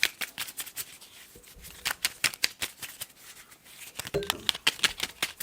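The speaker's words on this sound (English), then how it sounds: "They're a little hard to shuffle because they're so small." A deck of small tarot cards is shuffled by hand in a series of quick, crisp riffles and flicks that come in irregular bursts, close and fairly quiet, with no speech.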